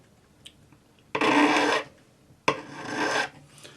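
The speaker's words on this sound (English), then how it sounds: "Be careful you don't touch anything with your file other than your rivet." Two rasping strokes of a metal hand file flattening the end of a wire rivet braced against a bench peg, each about half a second long and close by, separated by a brief pause.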